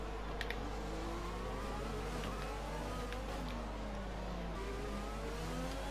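A Renault Formula 1 car engine in the racing game F1 2020 drones steadily, with its pitch slowly rising and falling as it revs, under a constant low hum.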